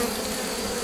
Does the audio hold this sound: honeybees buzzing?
yes